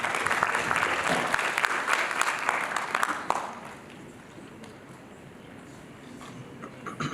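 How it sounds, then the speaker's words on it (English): Audience applause fills a marketing awards night in Nairobi, loud steady clapping for about three seconds before tapering off into quieter scattered claps and room murmur. "A round of applause, ladies and gentlemen."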